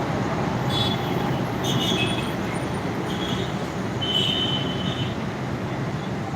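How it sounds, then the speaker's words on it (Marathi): A Pune Metro three-car train rolls into the station with a steady low rumble and thin metallic squeals from the wheels, loud and continuous, with no talking. "बघा आली बघा मेट्रो"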